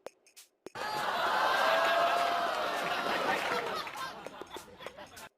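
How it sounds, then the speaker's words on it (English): Sitcom-style audience laughter and applause swell after a short sharp hit, a thick crowd roar that builds quickly, holds, then breaks into scattered claps and dies away into silence. "Applause."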